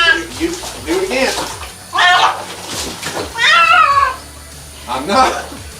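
A cat yowls and meows loudly in repeated drawn-out bursts while being bathed in water, with a person talking close by between the cries.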